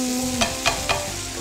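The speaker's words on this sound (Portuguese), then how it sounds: "Aqui já vou deixar ele dar o frito juntamente." Beans fry in a pan for baião de dois, a steady sizzle broken by three sharp scraping stirs of a utensil, close and fairly loud with no talking.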